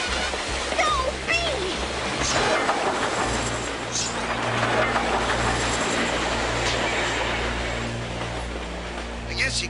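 An approaching train in the animated cartoon Dog City sets up a steady, loud rumble and clatter that fills the scene, with voices talking over it.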